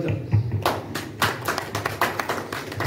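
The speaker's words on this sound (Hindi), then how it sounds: "ताली" A congregation at a Hindi-language church service claps hands in a short, uneven series of sharp claps, moderately near and without talk.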